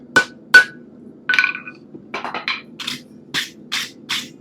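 A hammer beats a hot Damascus steel billet during forge welding, landing about a dozen sharp, ringing metallic blows at an uneven pace with short pauses, loud and close.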